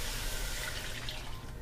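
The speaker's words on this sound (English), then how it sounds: "now we're going to take our 3 cups of water" Three cups of water pour steadily into a pot of cream of corn soup cooking on the stove, a continuous close splashing wash of liquid that tapers off near the end, with no talking.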